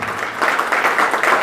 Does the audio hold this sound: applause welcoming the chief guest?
yes